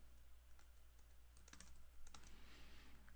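Typing an address on a computer keyboard, quiet clusters of soft key clicks in quick irregular bursts, heard alone against a faint background hum.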